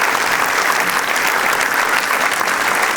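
Audience applause at a women's club show celebrating motherhood and beauty, a loud, dense, continuous roar of clapping from a crowd, sustained evenly throughout.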